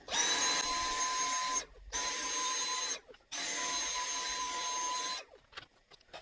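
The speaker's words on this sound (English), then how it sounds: "Let's invoke the Hoover and see what we get." A Hoover vacuum cleaner fitted with a sock over its nozzle runs in three steady bursts, each whining for about a second and a half, then cuts out. The bursts sound close and loud, with no talking over them.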